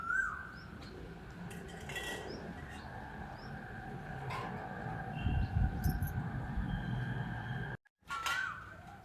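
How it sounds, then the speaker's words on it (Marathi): An Asian koel calls repeatedly from a distance, its rising notes faint over quiet background hum and a few small chirps. "समोरच्या झाडावर कोकिळा ओरडती"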